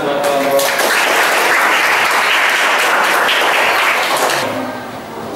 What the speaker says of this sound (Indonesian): Beri tepuk tangan buat kelompok